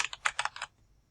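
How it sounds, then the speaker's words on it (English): A computer keyboard being typed on, a quick burst of about six crisp close keystrokes in an irregular rhythm that stops abruptly and leaves near silence. "we're going to type in primary market."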